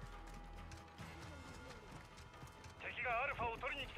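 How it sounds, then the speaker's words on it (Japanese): Footsteps in Call of Duty: Modern Warfare II multiplayer, a quick run of faint rhythmic steps under game sounds, followed by a louder clattering burst near the end. "足音。"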